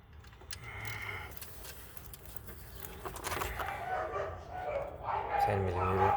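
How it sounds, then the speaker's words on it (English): A dog barks a few times in the background, fairly far off, mixed with bird calls and people talking nearby. "And our neighbor's dog, they're having fun."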